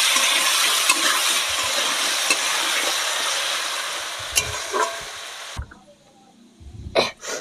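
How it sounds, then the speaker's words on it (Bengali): Round-sliced potatoes with salt and turmeric fry in a pan, giving a loud, steady sizzle for several seconds that cuts off abruptly, followed by a few faint kitchen clatters. "ওদিকে আমার আলু ভাজা হচ্ছে।"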